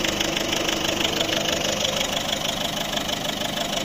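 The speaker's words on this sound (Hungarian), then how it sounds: "Így ketyerészik a moci, a 140 lóerős motor" A Mazda 6 Sportcombi with a 2.0-litre 140 hp engine idling, a steady, even, close ticking hum that holds constant without revving or voices.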